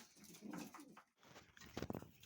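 Soft, low pigeon coos murmur from several birds in a loft nearby, with brief rustles and a short pause midway.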